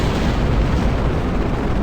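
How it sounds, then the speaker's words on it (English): Solid rocket boosters firing in Kerbal Space Program, a loud, continuous, dense roar that holds steady and close throughout, with no speech. "Gonna burn off the solid rocket boosters first."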